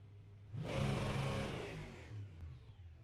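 A Mustang GT3 race car engine in the iRacing simulator at Tsukuba swells up for about a second and a half and then fades to a low idle-like hum, fairly quiet overall.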